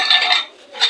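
Stirring native food in a pot during outdoor village cooking, a metal utensil clinking and scraping against the pot in brief bright strokes, close and fairly loud with a short pause between them.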